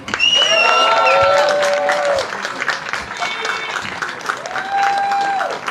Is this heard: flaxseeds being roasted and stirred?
no